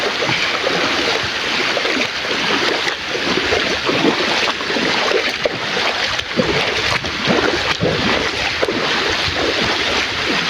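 Water spilling down a small waterfall in a flooded village makes a loud, steady rushing roar that runs unbroken from start to finish, with no voices.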